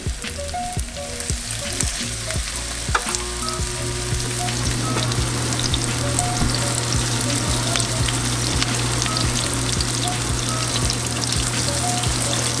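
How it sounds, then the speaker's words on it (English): Gator meat browning in olive oil in a pan over medium heat, a loud steady sizzle and spitting fry that swells after a few seconds and carries on continuously with no talking. "We got the pan on medium heat with some olive oil, and I'm going to brown these guys up."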